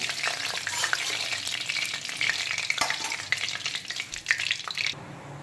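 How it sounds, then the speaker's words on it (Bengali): Pabda fish fry in hot oil in a home kitchen, a close, continuous crackling sizzle with busy spatter, broken by light stirring and stopping abruptly near the end. "আর বাকি মাছগুলোকেও একইভাবে ভেজে তুলে নেব।"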